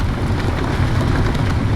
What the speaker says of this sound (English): It's raining rocks.